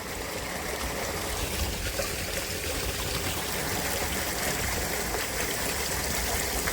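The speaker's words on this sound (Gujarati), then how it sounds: "વાવમાં પાણી પડીને દૂધિયા પાણી થઈ ગયો." Pumped water pours steadily into a stepwell, churning white as it lands, a constant close rushing and splashing wash with no pauses and no voices.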